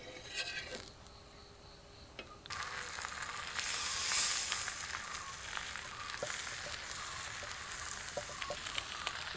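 Eggplant slices frying on a tawa, Udupi style, give a steady broadband sizzle and hiss that swells louder midway, with faint clinks of handling and no talking.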